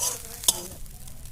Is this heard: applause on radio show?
no